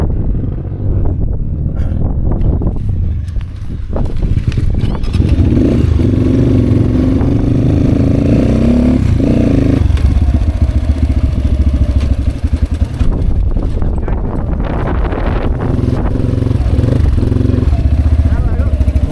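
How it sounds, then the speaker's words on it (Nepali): A motorcycle engine drones loud and steady along a mountain road toward the China border, its rumble mixed with wind buffeting and rattling, while people talk over it. "होइन यो बाइक अड्काउनु लाग्यो"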